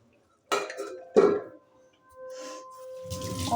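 Two sharp metallic clanks ring out as a lid is set onto a cooking pot in a home kitchen, followed by a soft, steady hum.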